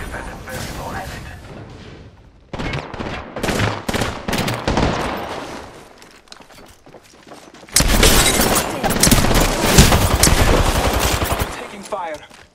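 Bursts of automatic gunfire in Apex Legends, rapid loud volleys in clusters with pauses between, close and harsh, with brief talk mixed in.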